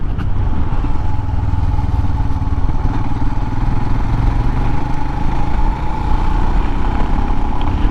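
A Royal Enfield Himalayan motorcycle rides along a road, its steady single-cylinder engine thrumming continuously and loud close to the rider, with wind and mechanical clatter and no talking.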